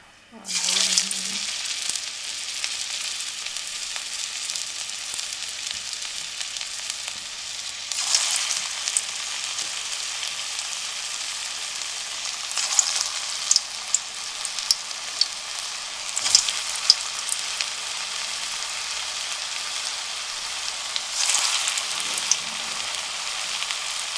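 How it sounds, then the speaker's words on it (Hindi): Matar kofta balls frying in hot oil in a kadai: a loud, continuous close-up sizzle that swells in bursts as more pieces go in, alone with no talk. "अब ऑयल हमारा अच्छे से गर्म हो चुका है। अब इसमें हम कोफ्ते डाल देंगे।"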